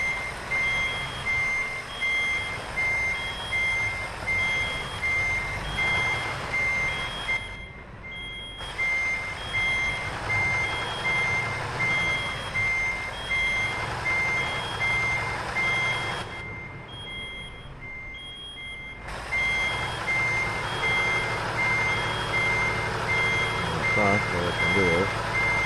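A truck turning around sounds a steady series of high, evenly spaced reversing beeps over its rumbling engine. The beeping drops out briefly twice before resuming.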